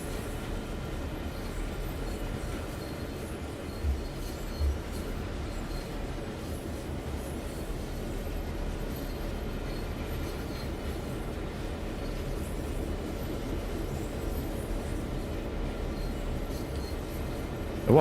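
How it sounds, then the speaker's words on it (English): A train rolls steadily in Train Sim World 2 on the Clinchfield route, crossing a bridge, with a continuous low rumble of wheels and cars that stays level and fairly close throughout, no talking. "You can follow the train along the bridge though."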